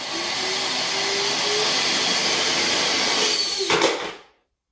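Electric ducted fan motor spinning inside a plastic bottle, a loud, close, steady high whine with buzzing harmonics that runs continuously, then spins down briefly and cuts to silence near the end.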